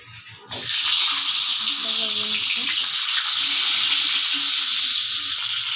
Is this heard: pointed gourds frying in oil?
yes